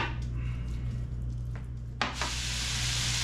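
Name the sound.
shaved meat sizzling as it is stirred in a stir fry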